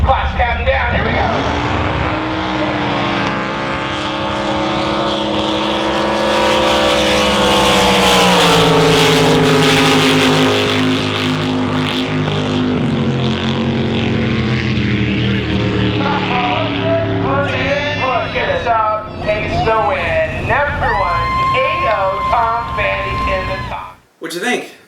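Powerful nitrous big-block drag boat engines roar loudly and continuously, pitch shifting as the boats race, then the roar gives way to someone talking excitedly near the end.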